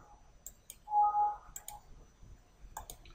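Computer mouse clicks during CAD work in CATIA: a few sharp, close double clicks spaced across a quiet background, with a faint tonal beep between them.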